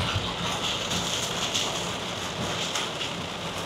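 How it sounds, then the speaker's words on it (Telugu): Rain falls steadily during a road trip through Sagar district in Madhya Pradesh, a dense continuous hiss with faint wind buffeting, loud and unbroken throughout. "ఈ వర్షం పడుతున్న సౌండ్ వినిపిస్తుంది అనుకుంటున్నాను నేనైతే."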